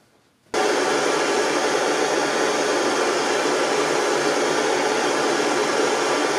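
A torch heats spring steel to anneal it, a loud steady roaring hiss that starts abruptly and holds unchanged throughout, close up with no other sounds.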